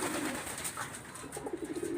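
Hobbyist-kept Salaka pigeons coo softly and repeatedly, with low, throaty, rhythmic calls set against a constant hiss of background noise.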